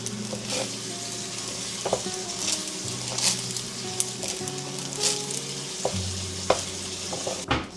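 Parboiled rice sizzles and fries in a pan while being stirred, a steady crackling hiss with scraping and clinking of the utensil against the pan, close up and with no talking.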